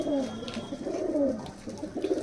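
Andhra Madras pigeons coo close by in soft, repeated rolling calls that come in a few overlapping bursts over a quiet background.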